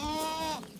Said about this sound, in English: A herd of very friendly goats on a Montana farm